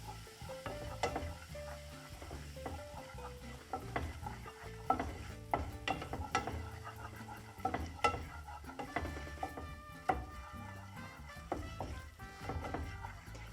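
A spoonful of flour fried in lard in a pot, with frequent sharp clicks and scraping knocks of a utensil stirring against the pot over a faint low sizzle.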